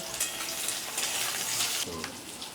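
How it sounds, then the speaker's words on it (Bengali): Cut potato and pointed gourd sizzle and hiss steadily in hot oil in a wok, a close, continuous frying sound with a brief shift in tone near the end. "কড়াইয়ের তেলটা গরম হয়ে গেছে, এখানে আমি আলু পটল কাটা আছে সেটা আমি দিয়ে দিলাম।"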